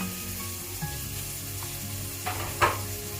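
Sliced onion drops into a couple of teaspoons of hot oil for a green chicken curry, giving a loud, steady close sizzle with a few sharp pops and spatters.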